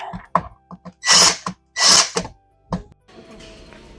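A cordless electric stapler fires several sharp, close clacks in quick succession, interleaved with two longer whirring bursts and small mechanical clicks, during reupholstery of vintage Henredon rattan barrel chairs.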